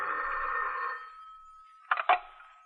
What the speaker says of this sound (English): the time was exactly 8:32 1/4 when the telephone rang